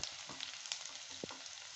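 Onion and green chili sizzle steadily in a hot pan, a dense crackling hiss with faint stirring taps, brief and close, with no voices.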